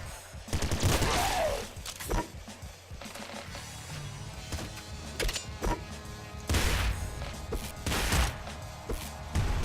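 Lightning cannon fire in the video game Nuclear Throne, a series of loud crackling zaps and bursts repeating irregularly with sharp bangs, layered over busy game sound effects and no talk.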